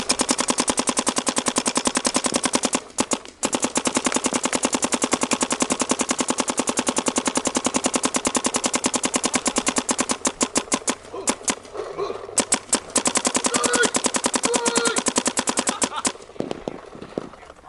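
Planet Eclipse CS1 paintball marker firing a long, fast continuous string of sharp pops during an air efficiency test, loud and close, with brief pauses near the start and in the final seconds.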